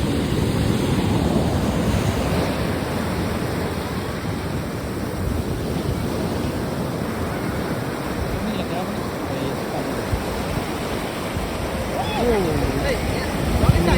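Ocean waves wash ashore on the Puducherry coast in a steady, continuous roar of surf. Wind buffets the microphone throughout and the sound stays fairly loud the whole time.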